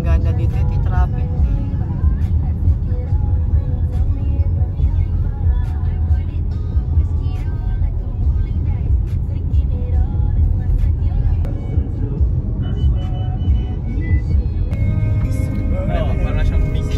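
Steady road traffic with cars passing, a continuous loud low rumble of engines and tires, with faint voices and brief higher tones mixed in throughout.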